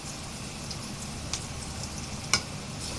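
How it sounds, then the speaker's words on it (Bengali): Turmeric and chili powder fry briefly in a little hot oil over onions for a tangra fish and potato curry, giving a steady soft sizzle with a couple of sharp pops, no voices. "একটু তেলে সামান্য ভেজে নেব।"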